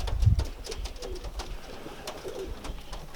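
Racing pigeons back in their loft after a 157 km race in strong wind and frost, giving soft low coos and wing flutters, with a louder thump near the start over steady background noise.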